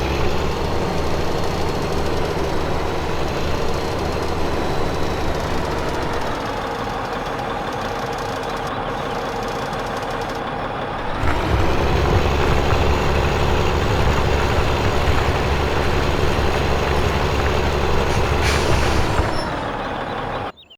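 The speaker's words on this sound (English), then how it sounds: "I'm going to go ahead and be quiet so you can hear the tractor motor" A heavy tractor engine runs steadily and loudly, its pitch and load shifting partway through, then cutting off abruptly at the end.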